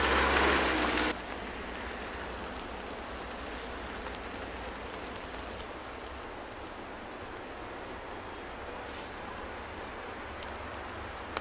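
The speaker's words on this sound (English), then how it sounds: "Hey, it's raining!" Steady rain hissing and pattering on a surface, a louder burst at the start then a constant even wash of drops, no voices.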